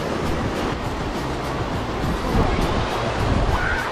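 Ocean waves wash onto the beach at Ross Island in the Andaman Islands, a steady broadband roar of surf with wind noise across the microphone, continuous and fairly loud throughout with a slight swell near the end.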